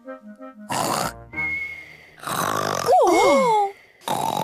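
A cartoon pig voice imitates loud snoring, giving wet grunting snorts and snuffles, then a rising and falling whistling wheeze, in close, loud, separate bursts with short pauses between them.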